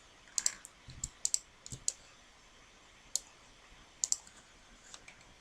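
Sharp computer mouse clicks, single and doubled taps at irregular intervals, close and crisp over a quiet background.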